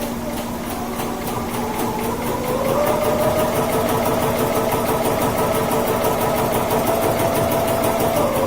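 Fabric for an appliqué holiday garland runs through a sewing machine, which keeps up a steady motor hum with a fast, even stitching patter that speeds up slightly partway through.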